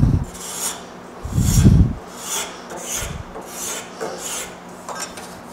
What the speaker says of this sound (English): I'm gonna just do the final scrape